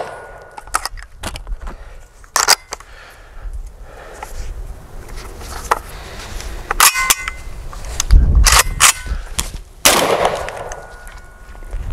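Heavy shotgun loads fired from a JTS AR12 semi-automatic shotgun, a dozen or so sharp, loud blasts spread unevenly across the stretch, some spaced singly and others in quick pairs, with no talking.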